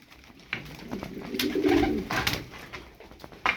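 Pigeons cooing close by, a soft low throaty coo swelling midway through a quiet outdoor scene, with faint clicks and rustles around it.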